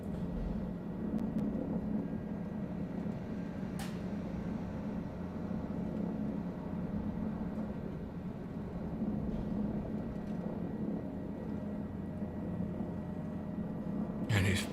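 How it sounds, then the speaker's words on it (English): Aircraft taxiing before takeoff in Microsoft Flight Simulator 2020: a steady, even engine drone with a low hum holds throughout at moderate level, with a few faint clicks on top. "We're about to take off, taxiing."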